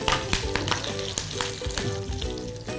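Chillies and curry leaves sizzle and crackle loudly in hot oil while a tempering for dadhojanam (curd rice) is made, with sharp pops breaking through a continuous fry.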